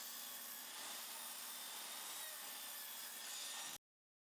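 Table saw rips wood into 1.5-inch strips for benches, a continuous loud, bright cutting whine lasting several seconds before stopping abruptly.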